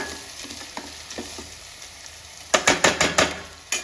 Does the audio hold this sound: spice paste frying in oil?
yes